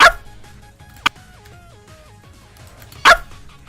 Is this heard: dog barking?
yes